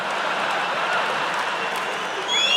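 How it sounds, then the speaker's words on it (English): Stand-up comedy audience applauding at a live show, a steady wash of clapping throughout, fairly full and close, with no talk over it. "Ladies, you shouldn't be applauding that."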